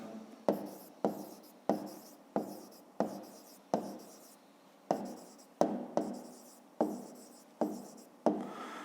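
Pen or pencil writing out a math answer by hand on paper, with a steady series of about a dozen short scratching strokes, each starting sharply and trailing off, close and fairly quiet with no talk.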